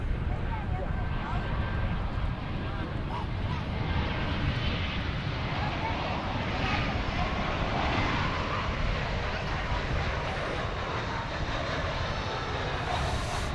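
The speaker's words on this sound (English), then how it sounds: "We now have for you the delightful Japan Airlines A350-1000 going back to Haneda Airport in Tokyo." A Japan Airlines Airbus A350-1000 jet roars at an airport, its engines giving a steady, broad, fairly distant rush that holds evenly from start to finish.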